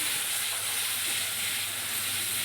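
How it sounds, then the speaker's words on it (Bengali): Spice paste sizzles steadily in hot oil while cooking a pointed gourd and prawn dish, a close, continuous hiss at moderate loudness with no voices. "মশলাটাকে তেলের ওপরে দিয়ে দিলাম"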